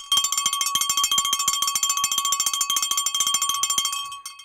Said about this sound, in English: Let's get the bell going in the comment